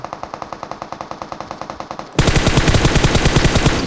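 Automatic rifle fire in PUBG Mobile rattles off in a rapid, evenly spaced string of moderately distant shots, then jumps to a much louder, closer burst continuing at the same quick rhythm.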